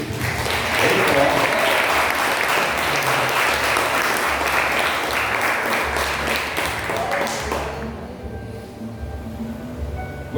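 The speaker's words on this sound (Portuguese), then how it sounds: "Vamos dar uma salva de palmas para Jesus." A congregation at a revival church service breaks into loud, sustained applause, many hands clapping together with voices over it. The clapping thins out and fades near the end.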